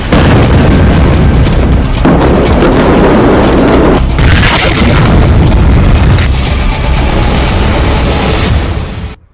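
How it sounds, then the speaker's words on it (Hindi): A tank attack on Gaza produces a heavy, sustained roar of blasts and rumbling, loud and dense throughout, with deep booming bursts layered over a constant crackling wash. "इजराइल गाजा पर टैंक से हमला कर रहा है"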